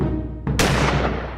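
Cartoon gunshot sound effect: a single sharp, loud bang cutting in abruptly after a short lead-in, followed by a fading noisy tail.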